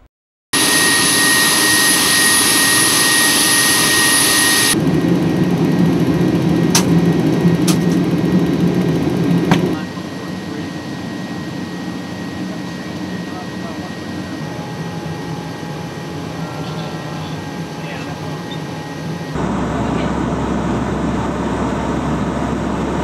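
A NOAA P-3 Hurricane Hunter turboprop plane drones steadily inside the cabin in flight, loud and continuous, with the tone and level shifting between sections.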